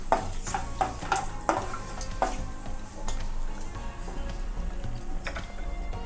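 Whole spices, cardamom and shahjeera among them, being stirred in hot oil in a pan for semiya pulao: a constant sizzle with sharp clinks and scrapes of a spoon against metal, heavy early and then easing into a steadier hiss.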